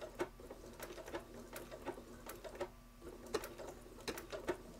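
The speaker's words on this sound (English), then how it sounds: "now I'm going to go ahead and keep on stitching" A sewing machine stitches a scrappy quilt wall hanging in quick bursts of needle clatter, fairly close and moderately quiet, with brief pauses between runs.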